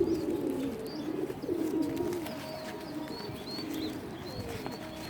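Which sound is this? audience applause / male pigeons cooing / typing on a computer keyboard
male pigeons cooing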